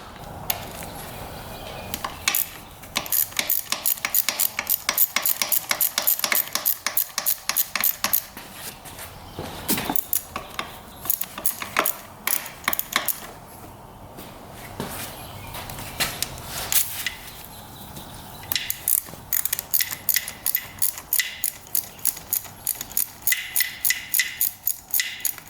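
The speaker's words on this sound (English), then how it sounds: "Now we can get to the valve cover here. Gotta take that off, and then we'll check the timing and the valves." Wrench ratcheting and metal parts clicking while the valve cover comes off a Yamaha YZ250F dirt bike engine, rapid ticking bursts and scattered knocks in close quiet working bouts, with no talking.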